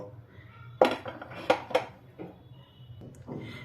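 Roasted whole spices, including nutmeg, tipped into a mixer grinder jar, several sharp clinks and clatters of hard bits and metal striking the jar, spaced irregularly and fairly close.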